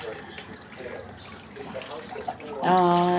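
Tap water starts running loudly into a kitchen sink for washing baby bottles, a steady splashing stream arriving after a few seconds of quiet room noise.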